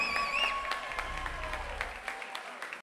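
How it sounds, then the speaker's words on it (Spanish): Applause and crowd noise for the orchestra at a live Latin music concert at the Jet Set Club, a short burst of clapping mixed with music tones and some voices, moderately loud and fading toward the end. "Un aplauso para mi orquesta."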